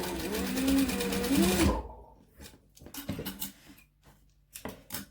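A sewing machine stitches a face mask seam with a steady close whirring run for under two seconds, then stops, leaving soft handling clicks and rustles.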